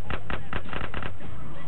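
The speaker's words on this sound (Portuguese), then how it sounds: "Estão quase explodindo já." Burst of explosions in GTA San Andreas on PS2, a quick run of six or seven loud, close blasts packed into under two seconds, then a fading rumble.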